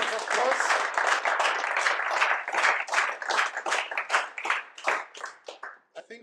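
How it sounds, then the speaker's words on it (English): An audience at a JavaScript meetup talk breaks into applause, loud and sustained clapping that gradually thins out and fades toward the end. "A big hand of applause."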